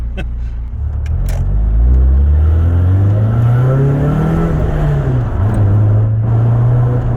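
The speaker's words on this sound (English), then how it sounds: "Lovely, raughty exhaust there." A Rover 25 GSi's small 1.4 engine revs and pulls steadily through a throaty exhaust, rising in pitch and holding a loud, rough drone close by.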